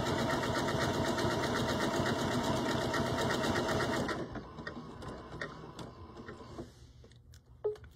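A sewing machine stitching decorative eyelets on fabric, a fast steady mechanical whir with rapid needle ticking that stops about halfway, followed by quiet clicks and handling noises nearby.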